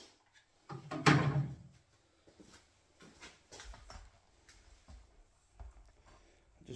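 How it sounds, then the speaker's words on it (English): Kitchen cabinet doors on a newly fitted Howdens kitchen being swung open and shut, giving one loud close knock followed by several softer bumps and clicks close by, with no talking. "So this door opens nicely now. And that door opens nicely."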